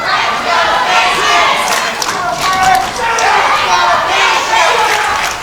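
Wrestling crowd at a pro wrestling championship show roaring and cheering steadily for several seconds, a dense, loud wall of voices with shouts rising and falling throughout.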